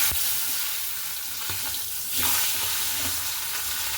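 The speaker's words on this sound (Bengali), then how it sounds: "তেলও গরম হয়ে গেছে মাছগুলো দিয়ে ভেজে নিই" Steady hissing sizzle of fish frying in hot oil, with occasional clinks and stirring noises, close and moderately loud.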